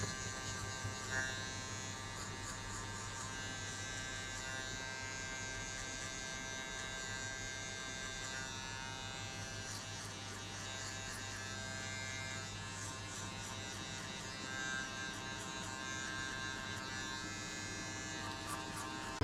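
Electric hair clippers fitted with a number one guard cut a child's hair, giving a steady, close buzzing drone that holds evenly throughout with no talking.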